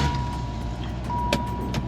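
Car with a 6-speed manual transmission idling close by, a steady low engine rumble with a few light clicks and ticks over it.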